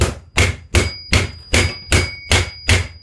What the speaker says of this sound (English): a plastic hammer.